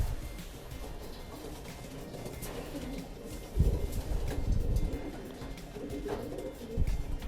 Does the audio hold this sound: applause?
no